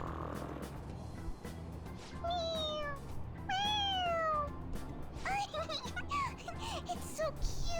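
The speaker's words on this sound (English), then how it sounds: "the cat's drooling" A cat in the game Persona 5 meows in several high, bending cries, close and clear over a low background hum, with a few shorter mews near the end.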